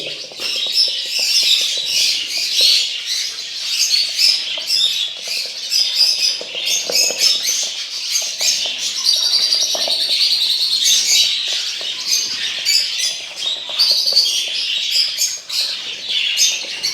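Dense, continuous high-pitched chirping and peeping from a group of young birds close by, with occasional squawks, steady throughout.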